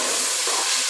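Spices roasting in a pan for pulao make a steady, bright hiss and sizzle, close and continuous, with no voices over it.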